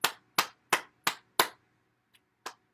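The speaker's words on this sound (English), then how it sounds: "Let's clap our hands." Hands clap five times in a steady, evenly spaced rhythm, sharp and close, then after a short pause one faint clap and one louder clap follow.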